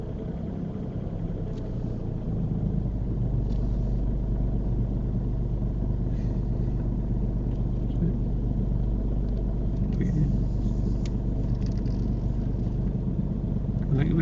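A car creeps along very slowly during a driving lesson, giving a steady low engine rumble and road hum throughout as people talk inside the car.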